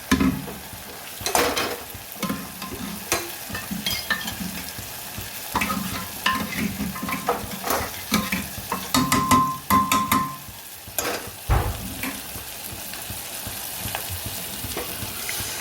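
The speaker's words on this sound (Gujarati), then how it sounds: "મિક્સ દાળ આપણે સરસ વઘારી દીધી છે." Mixed dal is tempered into spiced masala in a pan, a continuous crackling sizzle broken by repeated scraping strokes of a spoon as it is stirred, close and fairly loud with no talking.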